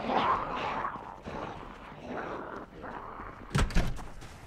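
Zombies bang against a door in the video game Project Zomboid: a couple of heavy, close thuds land near the end, following a stretch of low, muffled rumbling.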